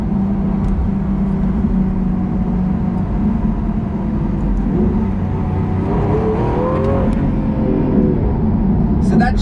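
Lamborghini SVJ engine droning steadily from inside the cabin in Corsa mode, with rising and falling pitch as it pulls through quick, aggressive gear changes, loud and continuous, with a person talking over it.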